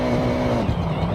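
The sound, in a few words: car engine with anti-lag turbo in Forza Horizon video game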